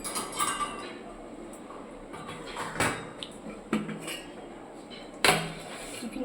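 Dishes and cutlery clink and clatter as lunch of rice is served, scattered knocks and rattles with a few sharper metallic clinks, close by and fairly quiet, with no one talking.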